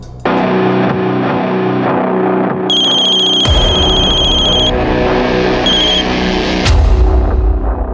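An electronic telephone ringtone plays a repeating melodic pattern, with shrill high tones cutting in and out and a booming effect near the end.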